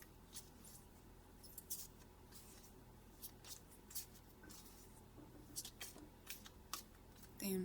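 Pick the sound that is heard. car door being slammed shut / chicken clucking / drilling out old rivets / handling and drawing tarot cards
handling and drawing tarot cards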